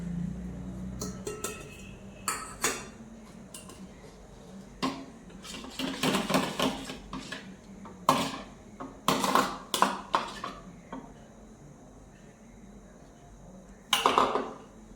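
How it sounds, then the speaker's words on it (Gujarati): Dried fruit and saffron stirred into flour batter for sweet malpuda, with irregular clinks, scrapes and soft knocks of a spoon against a bowl, louder in bursts toward the middle and end. "હવે હું એને લોટમાં એડ કરીને મિક્સ કરીશ."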